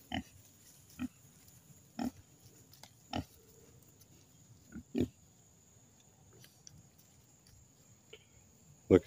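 Pigs on a farm give short grunts roughly once a second, spaced at a steady rhythm, close and moderately loud over a faint chirp of crickets.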